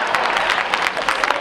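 An audience claps in dense, lively applause with distinct individual hand claps rising and falling, fairly close and loud throughout, from a comedy show crowd.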